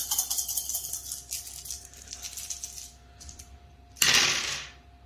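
Dice rattle and clatter across a table during a Dungeon Saga board game, then a brighter louder tumble near the end, close by with no talk.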